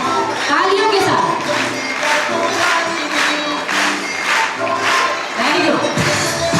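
Steady applause from a school audience at an investiture ceremony, dense clapping running continuously for several seconds, with crowd noise and a few voices mixed in.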